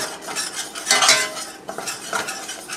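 Flour being stirred into chicken gravy in a pan, with a utensil scraping and clinking against the metal in close, uneven strokes over a soft sizzle.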